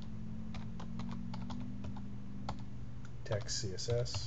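Someone types on a computer keyboard with a quick run of light, close clicks and a few harder keystrokes at the end, while a low steady hum runs underneath.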